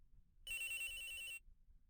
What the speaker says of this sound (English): Oh, my phone rang.